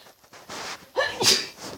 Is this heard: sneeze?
yes